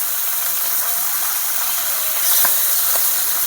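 Fresh river fish frying in a little oil in a kadai throws off a loud, steady hiss with faint crackles scattered over a few seconds.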